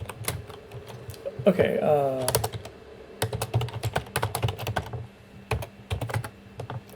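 Fingers tapping out a sudo terminal command on a computer keyboard while fixing Ubuntu networking in a VirtualBox machine, quick irregular bursts of close key clicks with short pauses, and a brief spoken word partway through.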